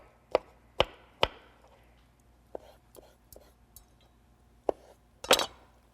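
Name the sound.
knife chopping an orange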